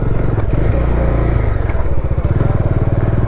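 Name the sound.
Bajaj Dominar motorcycle riding on a stony road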